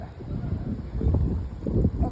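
Strong wind blows outdoors, gusting in uneven low rushes and buffeting the microphone, loud and close throughout.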